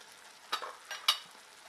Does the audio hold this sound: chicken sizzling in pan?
yes